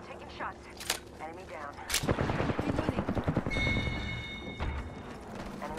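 Gunfire in Apex Legends on PS4, including a charge rifle, as rapid bursts and sharp single shots ring out during a squad fight, with players talking over the action.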